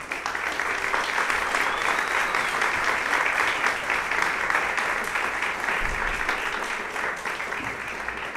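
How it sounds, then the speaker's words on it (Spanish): Sustained audience applause for a guitarist at a classical guitar concert, dense and steady throughout with no voices over it, tapering slightly toward the end. "Recibamos entonces con un fuerte aplauso."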